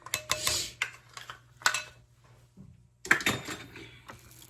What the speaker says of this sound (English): I'm going to go ahead and stir the chocolate chips in